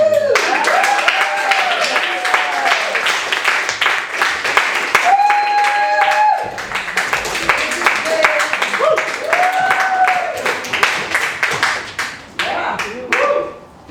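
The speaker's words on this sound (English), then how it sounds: "So let's have a big round of applause for Segal." Warm audience applause at a Valentine's Day poetry reading at Beyond Baroque, dense steady clapping from a room of people lasting throughout, with scattered cheers and voices mixed in.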